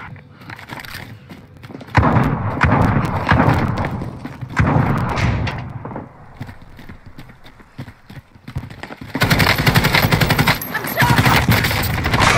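Video game gunfire: bursts of automatic shots in loud dense clusters separated by quieter gaps, with thuds mixed in.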